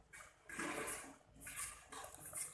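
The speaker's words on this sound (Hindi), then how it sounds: "पानी और डाल लेंगे थोड़ा सा" Water poured into a pot of chicken biryani meat, sloshing and splashing in a few separate bursts of fairly quiet rushing pours.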